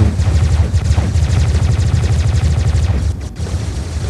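Rapid, continuous gunfire and shell impacts from War Robots, a mech combat game, forming a loud, dense stream of bursts with a brief dip near the end.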